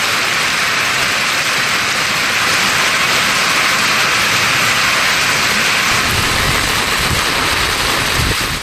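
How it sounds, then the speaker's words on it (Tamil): Heavy rain falls across a rural area of Karur district, Tamil Nadu, a loud, steady, unbroken roar of water with a deeper rumble creeping in toward the end. "கரூர் மாவட்டம் குளித்தலை சுற்றுவட்டார பகுதிகளில் நேற்று பலத்த மழை பெய்தது"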